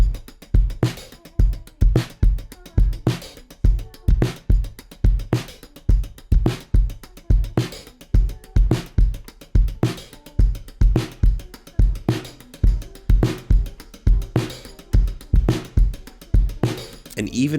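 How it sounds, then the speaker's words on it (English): Punchy drum loops from a song play blended with a live drum kit, a steady groove of loud kicks and snares repeating regularly throughout. "we've actually blended in a live drum sound"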